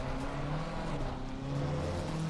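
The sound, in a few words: Ferrari 296 engine at Spa, from video game Assetto Corsa Competizione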